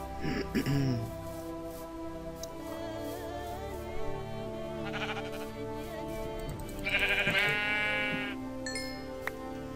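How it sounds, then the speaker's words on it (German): Sheep in Minecraft (FTB Ultimate modpack) bleat several times, with a clear nasal bleat near the end, while someone talks over the game. "Da hinten ist noch ein schwarzes Schaf, das hole ich auch noch."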